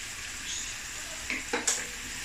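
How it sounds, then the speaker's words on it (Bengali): Spices, garam masala and salt sizzle while being sautéed in a pan for a pointed gourd dish, a steady close hiss broken by a few short louder crackles near the end. "আমি এগুলি ভালো করে 5-10 মিনিট কষিয়ে নেব।"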